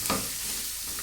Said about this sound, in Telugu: బాగా తెప్పుతా ఉండాలి లేకపోతే మాడిపోద్ది